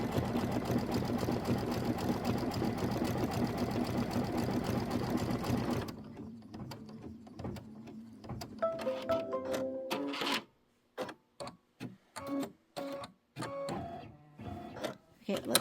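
An embroidery sewing machine stitches a wide satin stitch in peach thread on a Kimberbell March mini quilt, a dense rapid needle clatter close by for about six seconds. The machine then stops, and a voice talks over a few short mechanical clicks.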